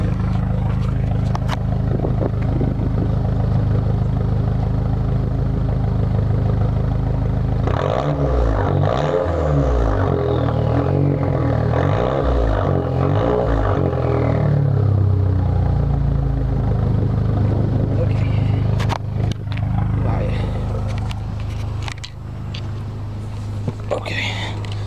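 A 2004 Vauxhall Vectra SXi turbo engine runs steadily, a loud close rumble with clatter and revving swells, while people talk over it.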